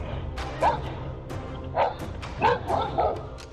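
A dog barks loudly at a black bear approaching a house, with several sharp barks spaced irregularly over a few seconds against outdoor background noise.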